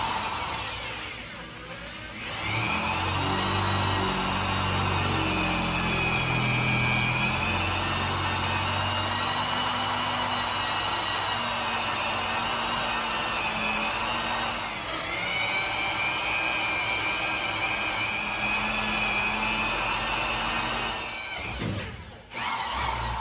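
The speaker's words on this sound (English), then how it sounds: "So first off, I'm starting out with a 1/4 inch drill bit." A power drill with a 1/4 inch bit runs almost continuously for about twenty seconds with a steady high whine, close and loud, briefly dipping in pitch before stopping.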